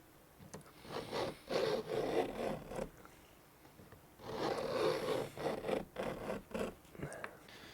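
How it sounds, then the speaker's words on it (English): A fret leveling file is drawn over the frets of a Telecaster guitar in bursts of rasping strokes. One cluster of scrapes is followed by a short pause, then another run of close, fairly quiet grinding passes. "this is a fret leveling file. I'll use the Crimson Beam to level these"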